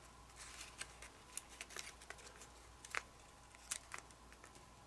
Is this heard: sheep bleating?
no